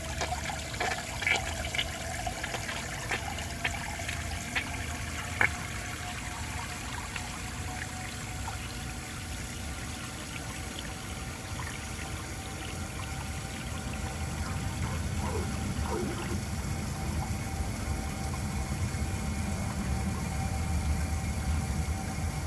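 A 1983 Crane Radcliffe toilet flushing with steady rushing, trickling water that swells slightly toward the end, plus a few small clicks and knocks, heard close and alone.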